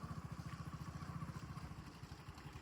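A motorcycle engine idles steadily on a road beside a lake, its close, even low pulses thumping at a regular rhythm throughout.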